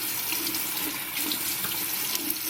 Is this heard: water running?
yes